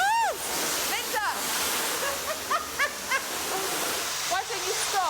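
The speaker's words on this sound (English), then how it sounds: "We're getting soaking wet from all this water here." Water sprays and splashes onto people during a home cleanup of a cluttered house, a continuous rushing hiss with sloshing bursts, while excited voices cry out and talk over it.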